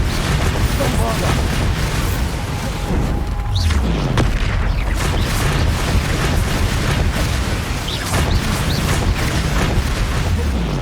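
Bombarda spell blasts in Hogwarts Legacy boom over dense, loud game combat noise, with a deep rumbling explosion and ongoing clatter filling the whole stretch.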